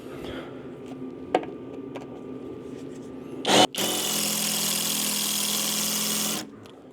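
A power drill runs steadily for about two and a half seconds, boring a hole during a Prinsu roof rack install on a 2023+ Chevy Colorado ZR2, after a brief burst and some quieter handling noises.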